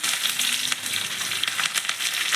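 Green chillies and curry leaves hit hot oil for a curd rice tempering, giving a steady, close, bright sizzle that hisses continuously without pause.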